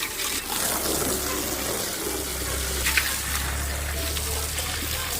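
Tap water runs steadily into a sink while dishes are washed in a home kitchen, a continuous close splashing hiss with no speech.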